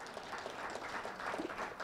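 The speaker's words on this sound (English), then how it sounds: "that deserves a round of applause" A room of training attendees applauds rugby players at the back, a short burst of clapping under two seconds, fairly distant and soft.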